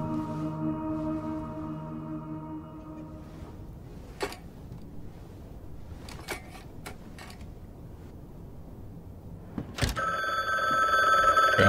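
A telephone rings in The Bookwalker video game, a tonal bell-like ring at the start, then scattered ticks and clicks, then a louder ring bursting in near the end, with no speech.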